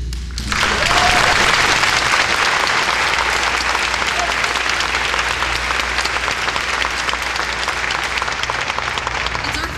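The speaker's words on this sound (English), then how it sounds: "you should give a round of applause for yourselves for coming out today" A rally crowd gathered at a museum breaks into loud, sustained applause that starts abruptly and holds a dense, even roar of clapping until the end, with no speech over it.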